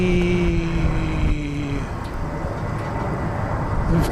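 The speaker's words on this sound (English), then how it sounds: "Lufthansa plane, flight 713 going to Frankfurt, an Airbus A350-900." A Lufthansa Airbus A350-900 jet at Incheon airport: a loud, steady engine roar with a gliding tonal whine that shifts over a few seconds, with a voice faintly audible underneath.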